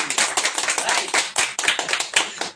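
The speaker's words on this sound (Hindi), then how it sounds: "ताली बजा सकते हैं, एक बार जोर से बजा दीजिए" An audience at a Hindi-language Christian gathering claps hands loudly and briskly, a dense burst of close, overlapping claps with no talk.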